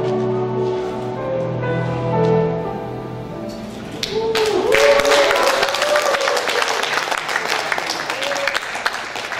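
An audience at a poetry recital breaks into warm applause after a poem, with a voice speaking first and then dense, sustained clapping filling the hall for several seconds.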